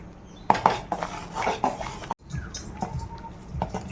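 Turmeric paste being stirred into khichuri in a pot, a ladle scraping and clinking against metal in irregular bursts, close and fairly loud, with a brief pause midway.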